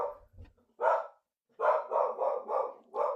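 A dog barks indoors: one sharp bark, a short pause, then a quick run of four or five loud barks close by.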